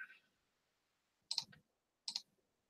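Two crisp clicks of a computer mouse, each a quick double tap, come close and clear in an otherwise quiet room while embroidery design software is being used.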